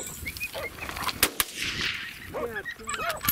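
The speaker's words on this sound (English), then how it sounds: "Boom, there's the first shot." Rifle shots crack out during a coyote hunt, two sharp, brief reports in quick succession amid outdoor background noise, with faint animal cries near the end.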